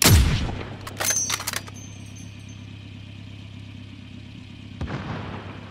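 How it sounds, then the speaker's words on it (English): A heavy explosion booms at the start of a Call of Duty Warzone battle royale match, followed by a cluster of sharp cracks and another thud late on over a steady low engine-like drone. "Dropping nukes and bombs on us."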